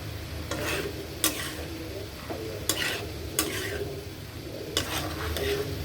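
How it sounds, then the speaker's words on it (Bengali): Bean seeds and dried fish with cumin and coriander powder sizzle in a pan while a spoon stirs and scrapes against the pot in irregular clanks, close and fairly quiet. "এখন ভালোভাবে এটা কষিয়ে নেব।"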